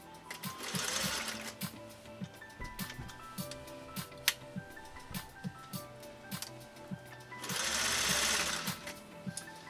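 A 1956 Singer 401A sewing machine runs steadily at speed, its needle stitching in an even, rapid rhythmic clatter, close up, with a louder motor surge near the start and again near the end.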